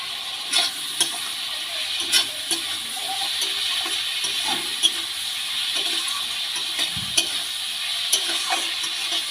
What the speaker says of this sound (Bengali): এবার আমি এই পেঁয়াজ আর লঙ্কার মধ্যে কেটে রাখা টমেটোগুলো দিয়ে দেব।